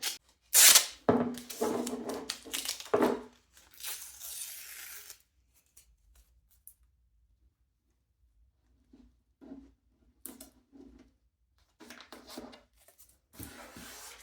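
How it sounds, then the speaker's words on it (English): Paint tape being ripped by hand from the middle during a vintage side table makeover, with a cluster of sharp tearing bursts early on, then near silence broken by a few soft handling rustles. "make sure that you rip it with your hand from the middle"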